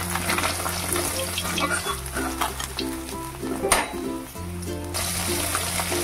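Pieces of katla fish fry in hot oil with a dense, continuous sizzle and crackle, loud and close, with a faint steady hum behind it and a brief clatter partway through.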